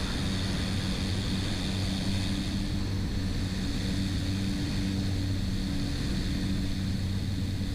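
A small airplane with its landing gear down flies over Ludington State Park, heard from inside the cabin as a steady, loud propeller engine drone and broad wind roar that stays constant throughout.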